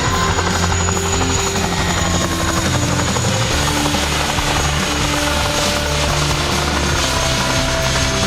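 A helicopter flies at the Manchester airshow, its rotor thumping and engine droning loud and steady throughout the whole stretch, with no other sound standing out.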